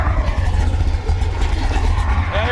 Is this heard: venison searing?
no